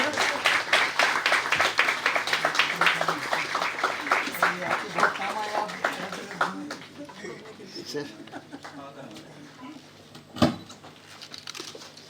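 Applause at a retirement party rings out loudly at first with dense clapping, then gradually thins and fades, with a few scattered claps and a sharp knock later.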